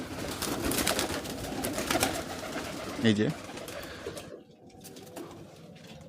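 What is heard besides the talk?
pigeons cooing: wild, local and Giribaz pigeons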